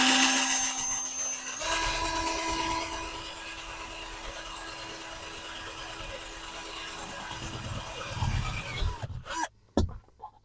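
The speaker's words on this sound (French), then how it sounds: "là je perce avec mon forêt de 6 au niveau de mes repères en tenant mon morceau de bois et mon cadre" A 6 mm drill bit bores through a solar panel's frame on a converted van, with a wooden block held behind it, producing a sustained grinding whir that builds toward the end and then stops in a few clattering bursts.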